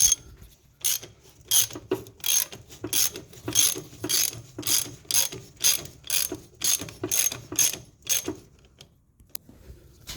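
A hand ratchet clicks in quick bursts while loosening bolts on the torque strut mount of a 2015 Ram ProMaster City. The close, repeated pawl clatter comes in a steady rhythm, with short pauses between strokes.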